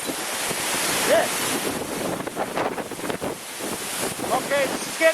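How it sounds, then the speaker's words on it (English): Strong gusts from a tropical storm roar against the microphone, a loud rushing wind that swells and buffets unevenly throughout, with occasional faint squeaks in the background. "These wind gusts are definitely in the 50s."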